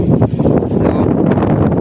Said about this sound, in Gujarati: ડમરી સીડે એવો પવન છે